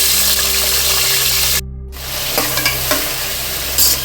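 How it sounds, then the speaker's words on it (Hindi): Onions dropping into hot oil in a pan for Andhra-style home cooking, with a steady loud sizzle, a brief dropout, then renewed frying crackle and a few stirring clinks. "चलो तेल गरम हो गया,"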